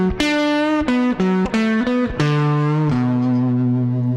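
Blues rock lead on a distorted electric guitar, a run of separate picked and bent notes resolving onto a sustained low root note on B, played alone and close.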